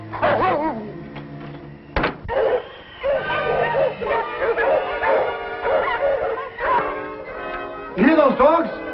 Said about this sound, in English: You hear those dogs? That's Monk's sled.